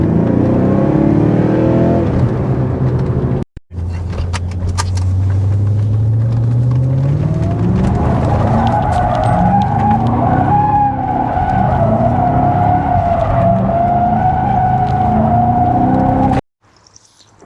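A BMW 540i E39 with a naturally aspirated 4-litre V8 and manual gearbox drives hard, its engine climbing in pitch with tires squealing and skidding, a brief cut partway, then a sustained high rev before abruptly dropping away.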